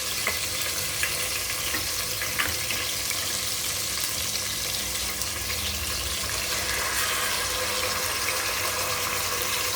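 Whole spices frying in hot oil in a pot for chicken dum biryani, a steady, even sizzle that runs on without a break, close to the microphone and with no talking over it.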